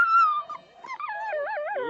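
Greyhounds being poisoned with an insecticide injection whimper and cry in pain, a close, high wavering whine that rises and falls in repeated yelping waves.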